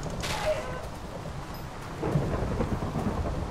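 Rain and thunder in the Minecraft video game form a steady broadband wash, with a low rumbling swell building in the second half; no talking is heard.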